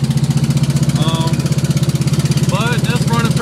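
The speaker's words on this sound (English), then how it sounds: "As you can tell, my exhaust is absolutely deafening." Loud, rotted exhaust of a Volkswagen Squareback rumbles steadily while driving, a deep continuous drone that dominates throughout, with a voice talking over it in places.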